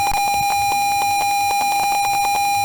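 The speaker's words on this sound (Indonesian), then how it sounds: "maka buzzer akan otomatis menyala dan pompa menyala" An Arduino buzzer beeps in an automatic garden-watering simulation, a steady high-pitched tone pulsing rapidly and continuously over a dense electronic background.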